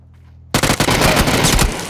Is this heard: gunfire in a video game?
yes